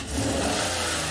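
A car engine in a workshop, rigged with an in-cylinder pressure sensor, is snapped open at the throttle and revs up loud and close, then holds a steady, strained roar.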